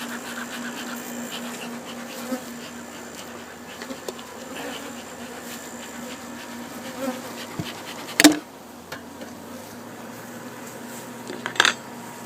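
Honeybees buzzing steadily around live hives being closed off with fiberglass screen during a Florida pollination trip, a continuous hum with a few sharp clicks and knocks.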